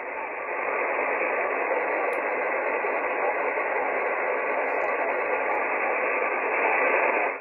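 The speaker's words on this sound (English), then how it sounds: "I'm picking up some modulation on lower sideband." Longwave radio receiver noise tuned to lower sideband during a transmitter outage, a steady band of hiss with faint modulation barely emerging, continuous and even throughout.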